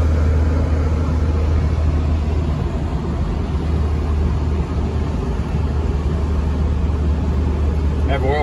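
A 1987 Alfa Romeo Quadrifoglio cruising in fifth gear, its engine a steady low drone heard from the cabin, with a voice speaking faintly over the hum.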